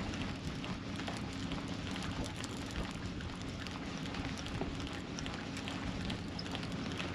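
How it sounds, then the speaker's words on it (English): Steady rain patters on a small fishing boat drifting over offshore sandbanks on a flat calm sea, a dense, even hiss with low rumble lasting throughout and no talk. "Oh, it's raining."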